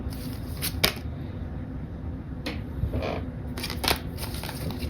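A deck of tarot cards being shuffled by hand, giving several short papery riffling bursts spread over a few seconds, close and moderately loud with no talking.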